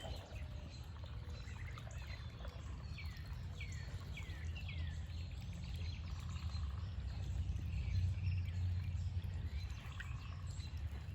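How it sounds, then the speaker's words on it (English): Gentle continuous bubbling of a garden water bubbler runs throughout, with several birds chirping and calling in the background. "I've got the bubbler going. Hear the birds."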